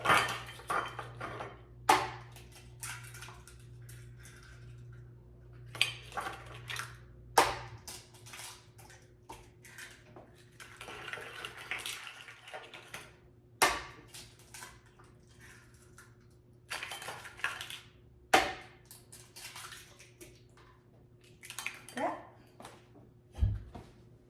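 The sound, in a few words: cracking eggs into a bowl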